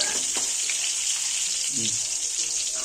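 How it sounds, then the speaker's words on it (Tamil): Eggs fry in hot oil in a pan with a constant bright hiss and crackle, moderately close, while a voice talks softly underneath at times. "எண்ணெய் ஊற்றினோடனே இப்போ முட்டையை நல்லா வறுத்து எடுத்துக்குவோம்"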